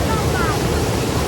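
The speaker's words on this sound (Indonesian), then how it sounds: "Air yang sangat deras, suaranya sangat menakjubkan jiwa" A waterfall in Indonesia roars with dense, steady rushing water, a broad continuous hiss with low rumble and no breaks.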